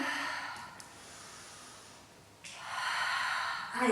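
A woman exhales slowly and audibly during a beginner Pilates exercise, a long breathy outflow close to the listener, followed by another strong breath toward the end.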